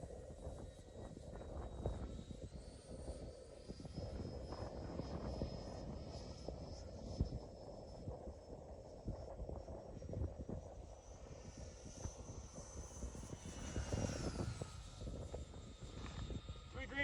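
A 90 mm E-Flite Viperjet RC model jet flies in to land, its ducted-fan whine heard from a distance, rising and shifting in pitch as it passes, with faint background noise and a voice talking.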